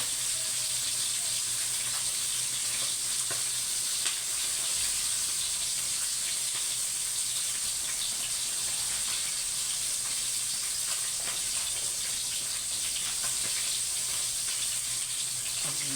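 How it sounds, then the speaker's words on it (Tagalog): Steady loud hiss of milkfish frying in hot oil, with scattered small pops and crackles throughout. "nakakatakot magprito ng bangos"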